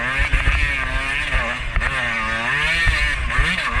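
A dirt bike engine held at full throttle while climbing a loose, slippery trail, a close, loud, continuous buzzing roar with rising and falling revs as the rear wheel scrabbles for traction.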